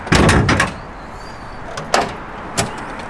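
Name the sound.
car bonnet being popped open on BMW E92 M3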